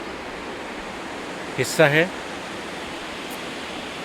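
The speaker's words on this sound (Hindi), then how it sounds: "पानी कैसा बह रहा है" Steady broadband rush of the upper Manas River flowing near the Bhutan border, loud and continuous throughout, with a brief spoken phrase partway through.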